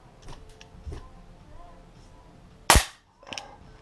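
An Artemis CP400 4.5 mm CO2 air pistol fires a pellet with one sharp, loud crack close by, set among faint mechanical clicks before and a softer click afterward.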